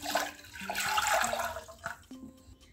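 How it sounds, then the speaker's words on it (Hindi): Soup made from leftover salad is poured into a pan with butter, a brief close liquid splashing and gurgling pour that tapers off after about two seconds. "अब हम इसमें सूप को डाल देंगे।"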